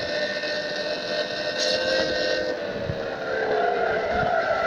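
A car drifts in the mobile driving game Car Real Simulator, its engine droning while long tire squeals slide and bend in pitch, loud and continuous with no talking.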